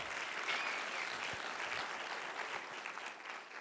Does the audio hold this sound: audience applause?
yes